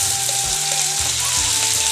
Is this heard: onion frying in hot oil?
yes